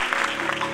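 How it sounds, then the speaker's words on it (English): Audience applause at an awards ceremony, a steady wash of many hands clapping at moderate level, heard briefly with a faint tonal undertone beneath. "give her a round of applause as she comes forward"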